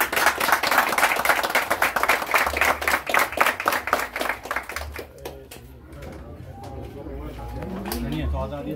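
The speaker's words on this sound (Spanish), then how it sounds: "Un aplauso." An audience at an awards ceremony applauds, with dense rhythmic clapping that fades out after about five seconds, leaving quieter room sound and murmuring.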